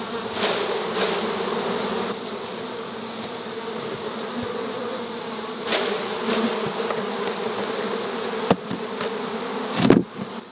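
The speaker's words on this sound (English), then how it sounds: "going to just try to shake a bunch of bees in here" A swarm of honey bees being shaken into a hive makes a dense, steady buzz throughout, close by, with a couple of sharp knocks and a thump near the end.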